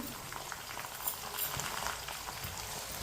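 Tomatoes, garlic and green chillies frying in a pan give a continuous, fairly quiet sizzle and crackle, with soft stirring scrapes and no voices.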